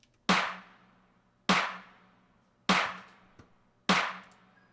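Four sharp snare drum hits spaced evenly about a second apart, each a bright crack with a short decaying rattle, dry and close.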